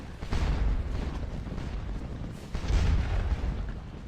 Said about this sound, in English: Our guns are opening. They're starting to bombard the farmhouses.